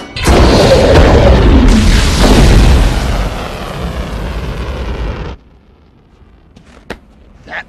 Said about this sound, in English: Launch the missile now!